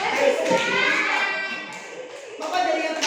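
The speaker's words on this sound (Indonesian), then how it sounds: "Tepuk tangan untuk Mario." Classroom applause for a boy named Mario, a lively burst of clapping from a group of children that carries on steadily for about three seconds, with some children's voices mixed in.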